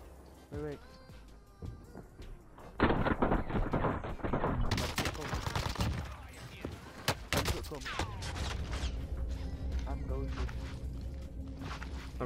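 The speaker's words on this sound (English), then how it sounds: "I'm getting shot off another team pushing in from towards that big building." Gunfire from an enemy team in the Warzone video game, dense bursts of automatic rifle fire and sharp shots, some close and loud, with footsteps and a player talking over the shooting.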